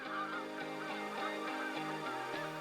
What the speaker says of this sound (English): thousands of Canadian geese traveling south for the winter cross Minnesota